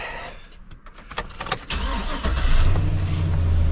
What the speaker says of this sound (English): So we're going to come over here and start up the truck.